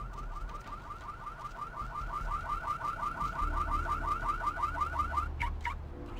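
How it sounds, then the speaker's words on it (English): A car alarm in the game Vampire: The Masquerade – Bloodlines Redux whoops in a fast, steady repeating warble for several seconds, moderately loud over low ambient rumble, with no talking. "Someone shut that frickin' alarm."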